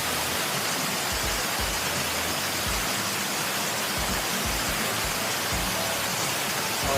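Steady rain falls continuously, a dense even hiss of drops with occasional heavier patters, heard close and uninterrupted with no voices.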